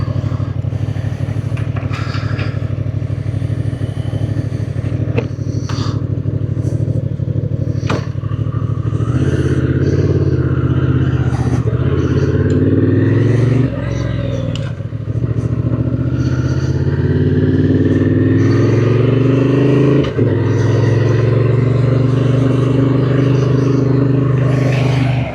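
A stock-exhaust 2024 Honda Transalp motorcycle is ridden for about 25 seconds, its engine droning steadily and loud throughout with shifting pitch as it accelerates, plus wind rush and occasional clatter.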